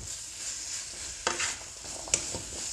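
Pork with chilli and coconut stir-frying in a pan, a quiet continuous sizzle broken by two sharp scrapes of the utensil against the pan, with no talking.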